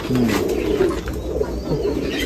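Pigeons of an old Gauran breed from a Nashik Road loft coo in low, soft, rolling calls close by, several birds overlapping continuously.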